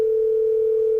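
A telephone line gives off a steady, loud single-pitched tone while a number is being called, unbroken and even from start to finish with no voices.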